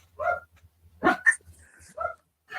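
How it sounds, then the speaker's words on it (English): A dog gives several short, sharp barks and yips in quick, uneven bursts, close and fairly loud against a quiet background. "KK, quit barking at me"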